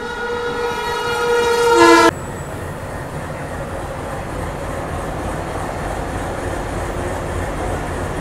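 The Rajasthan Humsafar Express sounds a long, loud horn blast that cuts off sharply, then a steady rumble of wheels and carriages follows as the train pulls out of the station.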